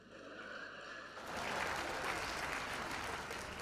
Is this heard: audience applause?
yes